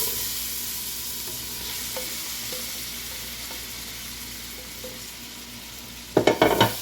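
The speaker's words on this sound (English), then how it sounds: "Don't you love the sound of a good sizzle?" Bacon, chopped garlic and onions for pumpkin soup sizzle steadily in a pot, a close hiss that fades slightly before a burst of stirring clatter at the end.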